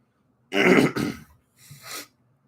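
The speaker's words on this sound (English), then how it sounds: "the coughing and stuff is still kind of there" A person clears their throat roughly, then gives a softer second cough-like rasp after a short pause, close and alone.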